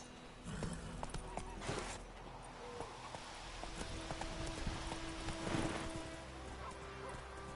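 Roach, Geralt's horse in Witcher 3 Wild Hunt, walking with soft, quiet hoof clops in an uneven rhythm over a low ambient bed, with a few louder thuds along the way.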